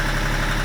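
A sailboat's engine idles steadily while being flushed with fresh water, a loud, close, continuous mechanical hum with a low droning throb.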